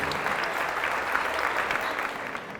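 A church congregation applauds warmly and steadily for a few seconds, dense clapping filling the space without a break.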